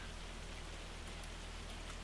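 Steady hail pattering on the ground in the farming video game Farming Simulator 25, a dense, continuous wash of light impacts with no voices, heard alone throughout.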